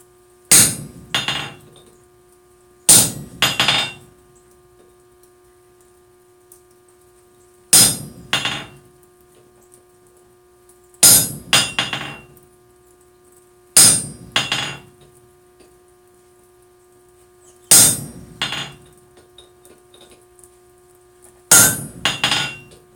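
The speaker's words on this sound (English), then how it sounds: "here all I am doing is just cutting in my jaw grooves" Hammer driving a cold chisel to cut jaw grooves in hot steel during a forging session: sharp, loud metallic strikes in clusters of two or three, repeated about eight times with short gaps and a lingering ringing tone.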